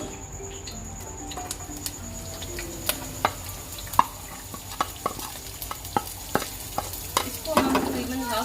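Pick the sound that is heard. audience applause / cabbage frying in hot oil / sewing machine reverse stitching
cabbage frying in hot oil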